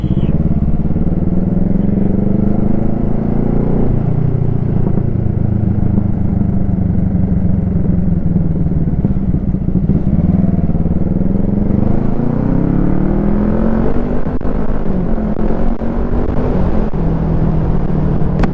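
A Kawasaki ER5 motorcycle rides along a coastal road in Normandy, its engine droning steadily and loudly throughout with slight rises and falls in pitch as it accelerates, mixed with constant wind rush.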